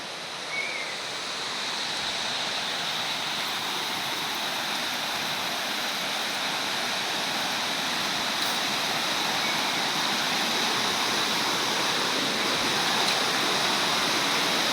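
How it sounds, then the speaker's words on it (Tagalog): Steady, dense rushing of a river flowing in Liliw, Laguna, continuous and fairly loud throughout with no voices. "Ganito po kaganda yung ilog sa bayan ng Liliw"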